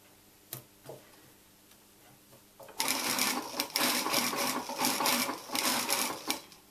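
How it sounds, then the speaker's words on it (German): Sewing machine stitching around a dress seam with the edge guide set at 3 cm, a few faint clicks first, then a loud, continuous rapid stitching rattle with small pauses, close up. "nähe jetzt einmal hier rundherum ab meiner Naht, die ich da gemacht hatte"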